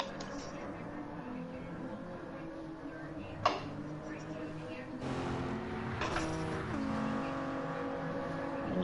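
Car engine in Gran Turismo 7 with a steady harmonic drone, rising and shifting as the car slides through corners and powers out, with a brief sharp click and tyre noise beneath.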